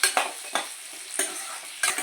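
Chilli chicken sizzles in a pan while a utensil stirs it, with four sharp scraping strokes over a soft, steady frying hiss; no one speaks.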